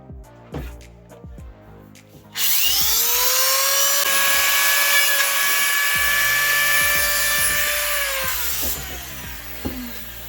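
A small high-pitched power tool whines steadily for several seconds while hot screws fix a cut breadboard into homemade plastic supports, preceded and followed by light handling knocks.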